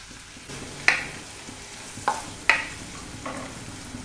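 Chopped onion frying in salted butter in a pan, a low sizzle beneath a few sharp metallic clinks and scrapes of a spoon spaced a second or so apart.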